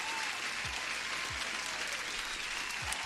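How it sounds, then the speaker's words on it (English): Applause sound effect during a live forex and futures trading stream, a steady hiss of clapping throughout with a few low thumps, brief and uniform. "Applause for Hello Teacher FX as well"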